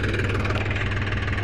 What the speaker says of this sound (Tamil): நியூ ஹோலண்ட் 5510, அதாவது 55 HP உள்ள டிராக்டர்